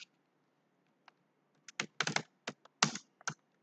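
Computer keyboard typing in irregular bursts of close, crisp keystrokes, sparse at first and then quicker clusters, with no talking.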